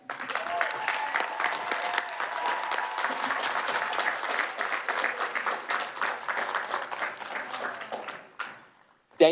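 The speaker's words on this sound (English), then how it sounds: "Let's give a round of applause for all of our graduates." Sustained applause from a large audience at a graduation ceremony, dense steady clapping that fades out near the end before a brief sharp sound.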